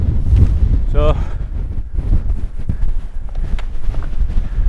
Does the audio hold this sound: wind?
yes